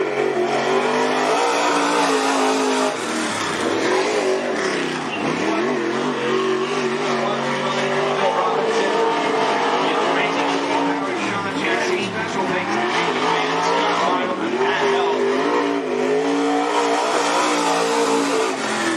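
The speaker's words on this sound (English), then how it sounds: "Here's the number 42 car." The number 42 race car laps Cottage Grove Speedway, its engine roaring loud and close, rising and falling in repeated revving sweeps as it passes, with tyre noise and a voice talking over it throughout.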